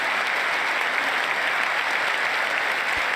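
A large audience at a 2022 State of the Union address breaks into sustained applause, a dense, even wash of clapping heard throughout at moderate distance.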